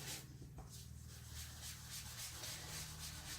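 A sponge pounces and rubs ink onto a card, making a close, soft, rhythmic scrubbing with a quick series of dabbing strokes and no talk.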